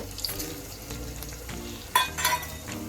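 Chana dal frying in a pan for a home-made goat head curry, a steady close sizzle with soft stirring scrapes and a brighter burst of crackling near the end, no talking.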